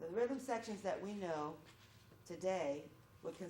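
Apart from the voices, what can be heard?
No distinct noise like a dog, phone or traffic.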